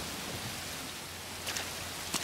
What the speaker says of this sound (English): I need to get out of this rain